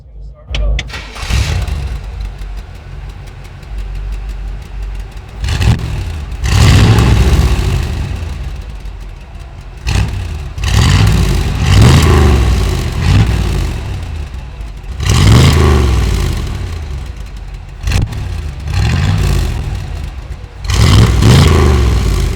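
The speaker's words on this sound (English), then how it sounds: "Still stock, it's just straight dual exhaust. It's going to have a nice rumble to it" A 1964 Chevrolet C2 Corvette engine, stock, rumbles through a straight dual exhaust with repeated revving surges that rise and fall, loud and close.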